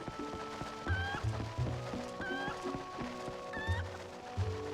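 A chicken in the video game The Legend of Zelda: Twilight Princess HD clucks in short repeated calls, clear and fairly close, over a continuous low in-game backdrop, with no voices.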